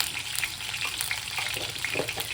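Salted potatoes sizzle and crackle steadily in a hot pan, a close, continuous frying hiss with occasional stirring scrapes.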